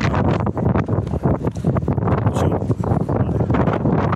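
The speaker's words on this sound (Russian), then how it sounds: "Ветер дует, довольно холодно." Cold wind gusting steadily in the mountains near Mendoza, Argentina, a broad continuous rush buffeting the microphone throughout with no talk.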